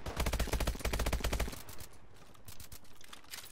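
A rapid burst of automatic gunfire from Call of Duty Advanced Warfare rattles loudly for about a second and a half, then gives way to quieter, scattered shots and clicks.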